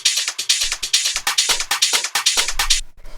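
A hard rave techno drum roll loop plays, with fast, bright, stuttering hits in quick bursts and short gaps, ending in a brief low thump.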